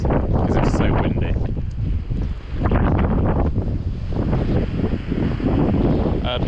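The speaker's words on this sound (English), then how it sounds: "the rain is falling sideways because it's so windy." Strong gusting wind buffets the microphone on a stormy coast, with rain blowing sideways in a steady broadband roar and a person talking throughout.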